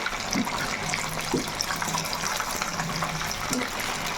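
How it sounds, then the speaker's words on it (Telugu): Rain falls steadily outside, a dense even patter and hiss of water continuing throughout with no talk. "బయట ఇంకా ఇప్పటికి కూడా వాన పడుతుంది"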